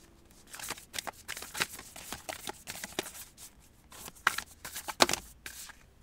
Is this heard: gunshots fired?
no